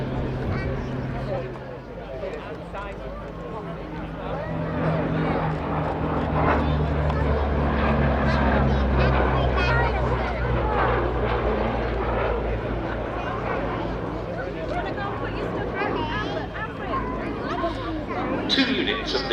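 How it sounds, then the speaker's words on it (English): A Westland Lysander's propeller engine roars through a short takeoff at an airshow, a loud sustained drone building and holding steady, with a commentator's voice and crowd chatter running over it. "a lovely demonstration there of the short takeoff capabilities which were part of the Lysander's raison"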